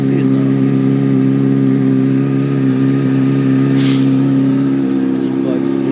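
A Honda CBR sport motorcycle fitted with a Two Brothers aftermarket exhaust runs close by with a steady, loud, even engine drone that holds a constant pitch throughout, without clear rev peaks.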